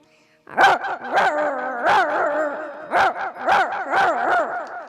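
A voice imitates dogs fighting, producing a loud run of yelping, growling bark-like bursts in an uneven rhythm, close up and with no other sound under it.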